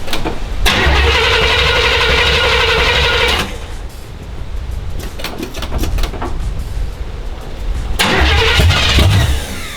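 A car engine cranks and catches, roaring loud and steady for a few seconds, then drops to a quieter idle before revving up again near the end.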